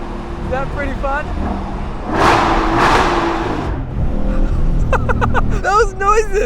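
Naturally aspirated V8 sports car, compared against a Ferrari 458, roaring through a tunnel: loud reverberant revving swells and upshift sweeps, with people talking and exclaiming over the engine.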